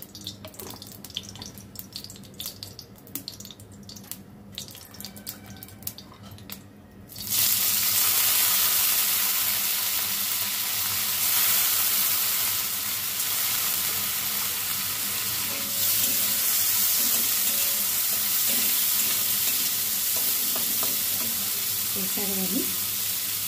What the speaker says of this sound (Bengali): ডালটা ভাজার জন্য অরহর ডালটা অল্প একটু ঘি দিয়ে ভেজে নেব